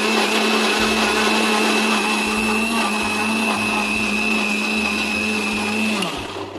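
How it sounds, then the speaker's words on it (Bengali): A blender grinds mango with water and black salt in a loud, steady whine that runs continuously and then winds down at the end. "এটাকে এবার গ্রাইন্ড করে নেব।"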